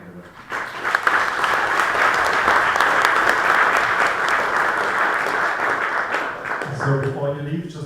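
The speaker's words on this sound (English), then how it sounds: "So another round of applause and have a great morning." Sustained audience applause from a morning session crowd at an educational technology gathering fills most of the span, steady and dense, then fades near the end as a voice begins talking.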